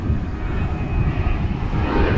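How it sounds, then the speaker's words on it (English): An airliner on a go-around at DFW Airport gives a loud, continuous jet engine roar with dense low rumble, alone and without voices. "We have a go-round."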